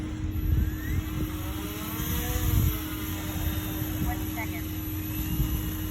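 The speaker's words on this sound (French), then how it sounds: "déjà 20 secondes que le moteur tourne" A light aircraft engine idles steadily on the ground before takeoff, a constant droning hum with a fixed tone throughout, fairly close, with slight swells in level and a faint voice beneath.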